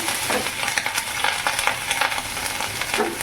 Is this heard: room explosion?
no